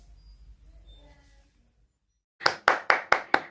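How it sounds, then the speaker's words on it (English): Five sharp, evenly spaced hand claps ring out close by after a stretch of near silence at an online dance competition, more like a few people clapping than a full crowd. "A big round of applause for every contestant"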